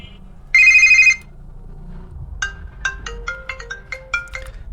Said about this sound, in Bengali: যে এই ফোনটির রিংটোনের সাউন্ড কেমন হবে।